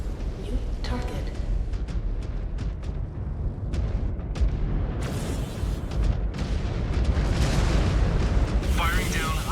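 A destroyed enemy mech explodes in MechWarrior 5: Clans, a heavy rumbling boom with crackling bursts that builds and sustains over several seconds, loud and close amid ongoing combat noise.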